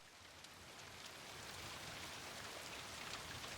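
Heavy rain pouring down steadily, a dense hiss of drops on surfaces that swells slightly and holds, fairly faint and continuous with no voices.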